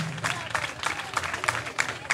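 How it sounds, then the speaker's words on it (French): Audience at a school quiz final applauding the finalists, a steady crowd clapping with scattered bursts and murmuring voices throughout. "Vous les applaudissez très fort."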